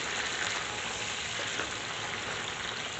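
Garlic-ginger water and whole tomatoes hitting hot oil in a frying pan for chicken karahi, a steady close hissing sizzle with faint crackles throughout, no talking.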